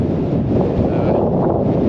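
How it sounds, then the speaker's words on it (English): Steady, loud wind buffeting the microphone on a mountain, with low rumbling gusts that swell and ease, no voices present. "the wind is okay. There's like strong gusts, sort of dies down then"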